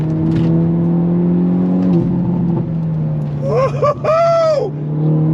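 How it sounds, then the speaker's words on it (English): Hyundai Elantra N with the 8-speed DCT driven hard, its engine droning steadily and close as it downshifts, while a man whoops excitedly over it. "Nice smooth downshift."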